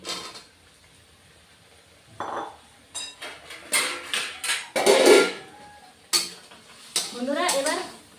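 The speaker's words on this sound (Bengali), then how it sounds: "এবার একটু কষিয়ে নিব আর ভেজে রাখা আলু পটলটাও দিয়ে দিচ্ছি" Fish curry is sautéed in a pan with fried potato and pointed gourd. A utensil scrapes and clinks against the pan in repeated bursts over a soft frying hiss, and a voice talks at times.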